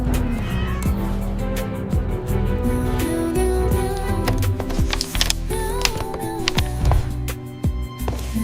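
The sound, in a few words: kitten meowing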